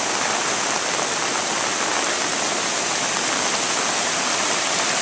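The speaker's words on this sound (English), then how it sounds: "The river beyond this house is many, many feet over its banks, rushing through like a monster." A flooded river in Grafton, Vermont rushes many feet over its banks past historic homes, a loud, steady, broadband roar of churning water that holds unbroken and close for the whole stretch.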